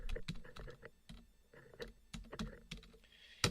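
Keys clack on a computer keyboard as a name is typed in a classroom, quick irregular bursts of taps with short pauses between them, close and fairly crisp, with no talking.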